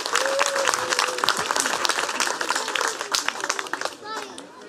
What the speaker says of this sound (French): Ah parfait Nathalie, est-ce que vous pouvez me rejoindre sur scène sous un tonnerre d'applaudissements s'il vous plaît?